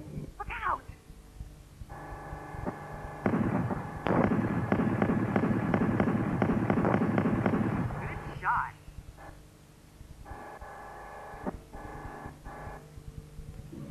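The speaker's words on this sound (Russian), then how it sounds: "начинаете отстреливаться от нападающих из лазерной пушки" Repeated laser cannon fire from a Dendy video game, fast buzzing electronic bursts in rhythmic runs, loudest in a long middle stretch, with someone narrating over it.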